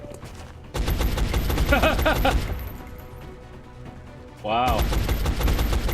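Rapid automatic gunfire in the video game XCOM: Enemy Unknown: two loud, close bursts of sustained shooting separated by a quieter gap, with someone briefly talking over it.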